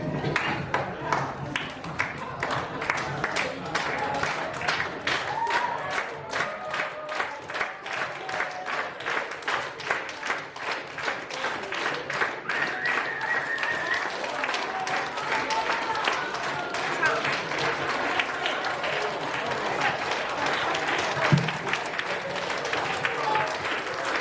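A seminar audience claps and shouts continuously while participants do push-ups and squats, a dense, rhythmic round of applause with cheering voices that stays steady for over twenty seconds.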